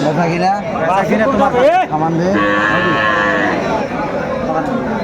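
Cows moo at a busy cattle market selling dairy cows with calves, several drawn-out calls rising and overlapping, loud and close, with people talking throughout.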